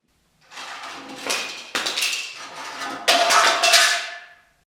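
A knife clatters in a few loud, close metallic knocks, each followed by a bright, ringing rattle that trails off into silence.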